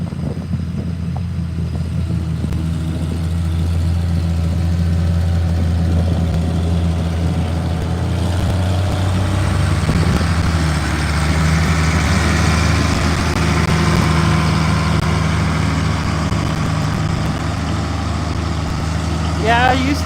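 Pulling tractor engine running at a tractor pull in Blissfield, Michigan, a loud steady low rumble that swells midway, with people talking close by over it.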